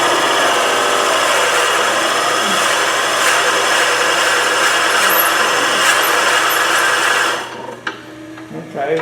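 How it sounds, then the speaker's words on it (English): A wooden pepper mill blank grinds and whirs steadily as a drill bores into it on an underpowered lathe, a loud continuous rasp that cuts off abruptly near the end. "this is not drilling well because it's underpowered, the lathe"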